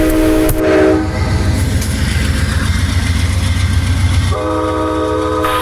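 An Amtrak train departs a station in Ashland, Virginia, its horn blaring in sustained, loud blasts at the start and again near the end over a steady, close rumble of rolling rail cars.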